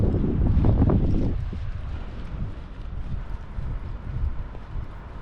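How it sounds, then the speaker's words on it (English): Ponies walking on a sunny beach, hooves clip-clopping in a quick uneven run over the first second and a half, close and fairly loud, then fading under steady wind noise. "Ponies."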